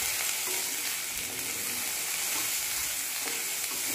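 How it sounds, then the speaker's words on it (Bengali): Potatoes and eggplant with salt and turmeric are tossed in a hot pan for a Medinipur raw-banana chechki, giving a steady close sizzle with faint scraping as the vegetables are mixed, no voices. "লবণ আর হলুদটা আলু আর বেগুনের সাথে ভালো করে মিশিয়ে নিচ্ছি।"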